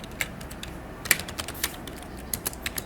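Keys clatter in brisk, uneven bursts of typing on a computer keyboard, close and fairly quiet, with sharper individual clicks standing out against a soft steady background hiss.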